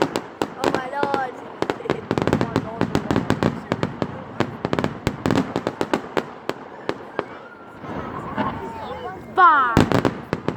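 Bonfire night fireworks go off in a dense run of sharp bangs and crackling bursts, loud and close, with excited voices and shouting between and under the explosions.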